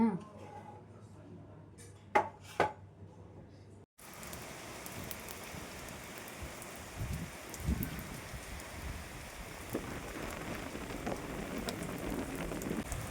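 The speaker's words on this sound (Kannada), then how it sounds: "ಮಳೆ ಬರ್ತಾಯಿತ್ತು ಬರ್ತಾಯಿತ್ತು ಎಷ್ಟು ಜೋರ ಸ್ಟಾರ್ಟ್ ಆಗೋಯ್ತು ಗೊತ್ತಾ" Heavy rain pours steadily onto a surface outdoors, a dense continuous wash that starts abruptly after a few brief knocks and keeps drumming at a loud, even level.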